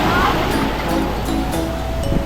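Sea surf at a beach in Dasol, Pangasinan, a continuous broad wash of waves with wind noise, close and loud, with a few faint clicks.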